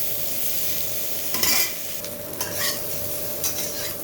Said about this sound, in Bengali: লবণ দেবো না, একটু হলুদ দিয়ে ভেজে নিচ্ছি।